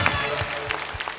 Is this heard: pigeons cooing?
no